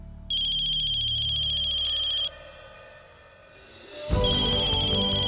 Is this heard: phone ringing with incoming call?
yes